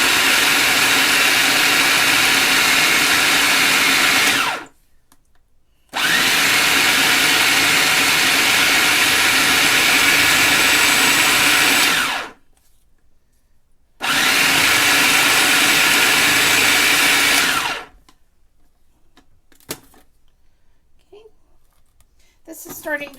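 An electric stand mixer runs in three long, loud steady bursts of whirring motor noise, with short silent gaps between them, while it mixes peanut butter cup filling.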